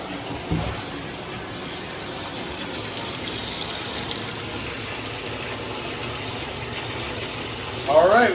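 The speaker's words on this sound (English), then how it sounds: "I'm gonna go ahead and start the water and get some water in this" Tap water runs steadily into a bathtub being filled to bathe a rescued duck, a continuous moderate gush with a brief knock near the start and a louder splash at the end.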